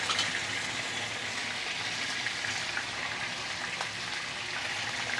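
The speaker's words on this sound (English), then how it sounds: "The fish head part very nicely fried." A fish head frying in hot oil, with a dense, steady crackle and hiss like heavy rain, close and continuous with no pauses or speech.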